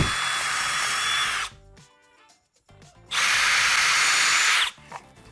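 A power drill whines loudly through wood, backed by scrap wood underneath, in two bursts separated by a quiet pause with faint clatter.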